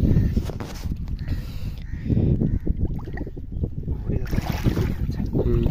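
A boat on a muddy tidal creek, heading out with crab traps, churns and rumbles with heavy wind buffeting the microphone, steady and loud throughout.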